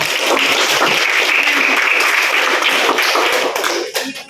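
A classroom audience gives a student group dense, loud applause that holds steady and then starts to thin out at the very end.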